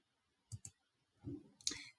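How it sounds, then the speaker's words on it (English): A computer mouse gives two quick, quiet clicks close together, followed moments later by another soft double click, with nothing else heard. "Again, double clicking to finish the line."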